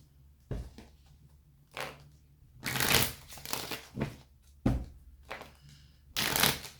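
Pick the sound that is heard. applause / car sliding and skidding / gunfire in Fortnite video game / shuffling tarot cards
shuffling tarot cards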